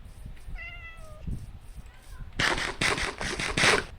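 A Minecraft cat gives a single clear meow near the start, followed by a couple of softer calls. Loud, harsh bursts of game noise then take over the second half.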